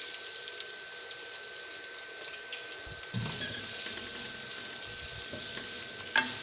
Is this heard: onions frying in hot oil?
yes